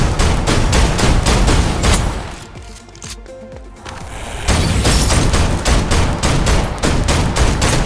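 Rapid bursts of gunfire in the video game Snowbreak: Containment Zone, loud and close, with a short lull in the middle before the shooting resumes.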